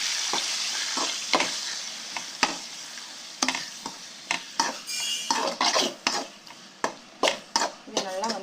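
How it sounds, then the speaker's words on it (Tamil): Chopped onion and tomato hit hot oil in a pan for a green gram gravy, setting off a loud, continuous sizzle. A spoon scrapes and clanks against the pan again and again as the mix is stirred. "இப்போ அடுத்து வந்து இதில் வெங்காயம், தக்காளி வந்து நம்ம ஆட் பண்ணிக்கலாம்."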